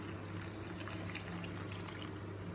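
Hot water pouring from a vessel into a cooking pot of rice for a jackfruit biryani, a steady continuous splashing stream close by with no talk over it.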